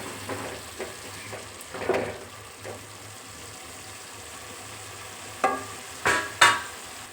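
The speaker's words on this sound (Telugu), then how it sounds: "వీటిని కూడా ఒక 10 నిమిషాలు మూత పెట్టేసుకొని వేయించేసుకుందాం." Ingredients for a coriander-mint chutney fry in a pan with tamarind, under a low steady sizzle and occasional stirring scrapes, with a few louder stirring bursts near the end.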